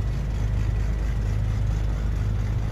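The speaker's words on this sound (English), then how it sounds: "And we've got a good, healthy engine running." Steady, loud drone of a piston aircraft engine running after a cold-and-dark startup in a flight simulator, the Black Square Duke twin, holding an even low hum without variation and no voices.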